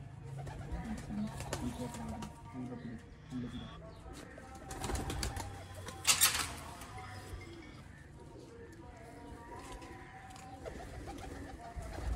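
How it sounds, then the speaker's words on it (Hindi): Misay pigeons, a rare pure breed, coo in soft, repeated low calls against busy background noise, with a brief burst of wing flapping partway through. "मिस्से कबूतर प्योर हालत में और रिजल्टेड किस्म के कबूतर"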